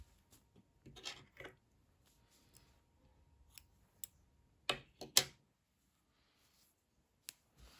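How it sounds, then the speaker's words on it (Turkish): Scissors snip through knitting yarn in a quiet room, a few faint scattered clicks and two sharper close cuts near the middle, with no talking. "İpliği kesiyorum."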